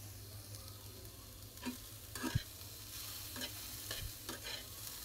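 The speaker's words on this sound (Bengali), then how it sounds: "তো পেঁয়াজটাকে ভেজে তারপরে পেটিটা দিয়ে দিব।" Onions fry quietly in oil in a pan for fish belly bhuna, giving a faint continuous sizzle broken by soft scraping stirs at intervals. No one speaks.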